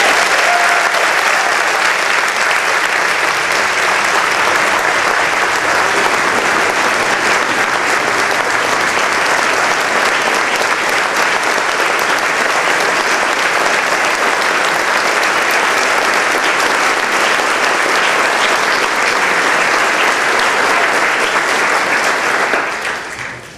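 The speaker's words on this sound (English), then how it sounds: "let's give a big round of applause for all of tonight's award recipients" Sustained applause from a large crowd at an award ceremony, loud and steady throughout, fading out at the very end.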